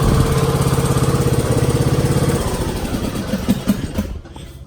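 A Craftsman riding lawn mower engine runs nearby with a steady, rapid pulsing chug that loosens and fades toward the end.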